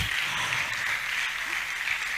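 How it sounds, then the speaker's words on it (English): An audience at a university inter-faculty debate competition keeps up steady, even applause throughout, a continuous patter of many hands with faint voices beneath. "Keep on clapping until Prof had sat."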